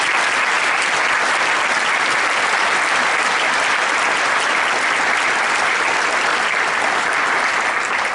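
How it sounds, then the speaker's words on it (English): A concert audience gives a middle school honor band of kids one more round of applause, loud, dense and sustained clapping throughout. "Would you give them one more round of applause,"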